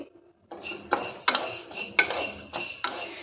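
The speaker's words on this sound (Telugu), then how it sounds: "ఇప్పుడు మళ్ళీ ఒక పావు కప్పు మినపగుళ్ళని తీసుకొని వీటిని కూడా దోరగా వేయించుకోవాలి మనం." Urad dal dry-roasts in a pan while being stirred, giving about six rhythmic scraping, rattling strokes that sound close and fairly soft, with no one speaking.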